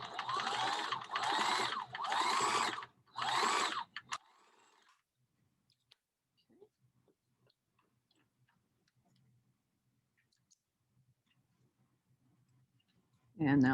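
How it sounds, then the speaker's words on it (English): Domestic sewing machine running a short-length zigzag stitch along a fabric edge while making a ruffle for a costume, heard as a few loud, rapid mechanical bursts of stitching near the start, then near-quiet with faint handling ticks. "I'll put my stitch on just a little shorter than 2 so that I can stitch my zigzag to finish this edge"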